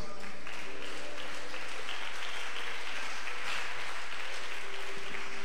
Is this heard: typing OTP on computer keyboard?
no